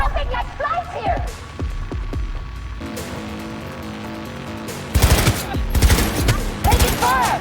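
Bursts of rapid automatic gunfire and sharp shots in the video game Cyberpunk 2077 crackle loudly over a humming game soundscape, with a dense volley near the end.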